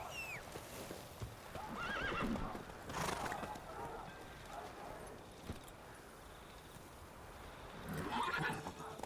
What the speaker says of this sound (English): I'm gonna get off the horse for a minute.